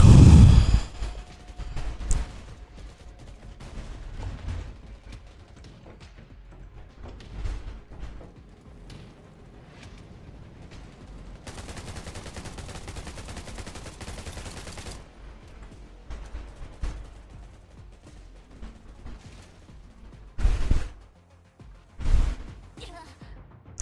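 Gunfire in the survival shooter game Undawn, on a survival island mode, comes as scattered shots and short bursts, some loud and close, with a longer stretch of sustained firing, while a player talks intermittently throughout.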